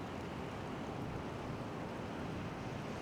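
Sea waves rolling in over a rocky shore of rockpools on a breezy day, a steady broadband wash of surf with wind rumbling against the microphone, no voices.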